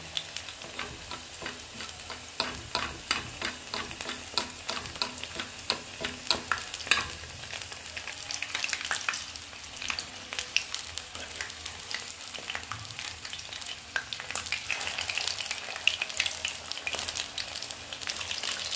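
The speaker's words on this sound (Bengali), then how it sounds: "কোট করে এটা আমি ফ্রাই করব।" Coated fish pieces fry in a pan with a constant bubbling sizzle broken by frequent sharp pops and spatter ticks, steady and close throughout without any talking.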